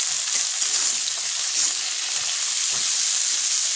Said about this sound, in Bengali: আর ফুলকপিটা ভাজা হতে একটু সময় নেবে।